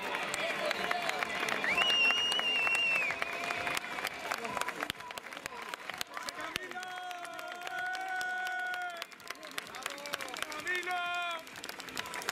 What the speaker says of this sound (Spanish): un aplauso fuerte para Camilo